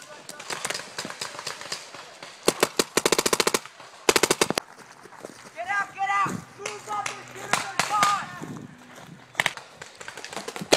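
Paintball guns firing during a center flag game in a jungle setting, rapid bursts of sharp pops in quick strings, with players shouting and talking between and over the volleys.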